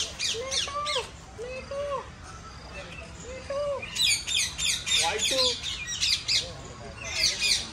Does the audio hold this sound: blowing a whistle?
no